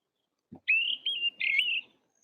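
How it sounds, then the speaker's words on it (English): A single low thump, then a clear, high whistled Kurrichane thrush call in two drawn-out phrases, close and alone against silence. "Let's click on a lovely bird called a Karachani thrush"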